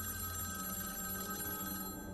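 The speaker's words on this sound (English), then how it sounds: "I jumped with fright when I heard the ringing, fearfully looking across to the dust-covered red phone affixed to my living room wall" An old dust-covered red telephone mounted on a living room wall rings steadily, its bell-like tone sustained over a faint low hum with no pauses.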